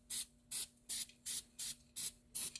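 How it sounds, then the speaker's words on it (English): An aerosol spray can hisses in seven short, evenly spaced bursts, about two per second, as it is sprayed onto the wheel hub of a 2016 Subaru Impreza during a bearing and hub replacement, close and with no talk. "Grab your favorite can again and begin spraying."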